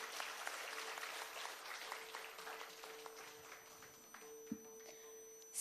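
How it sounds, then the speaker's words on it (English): Applause from an audience after a kathak rangapravesh dance performance, steady and moderately distant clapping, fairly faint, with a faint sustained electronic tone running underneath. "a huge round of applause for that electrifying performance"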